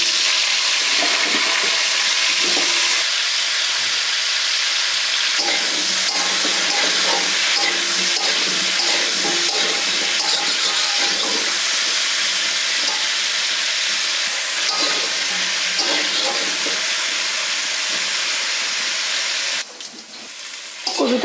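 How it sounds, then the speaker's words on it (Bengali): Cauliflower pieces fry in hot oil in a pan for a Bengali vegetarian cauliflower-potato curry, giving a dense, steady sizzle with occasional stirring scrapes that carries on throughout at close range. "প্রথমে আমি কপিটাকে সুন্দর করে ভেজে নেব"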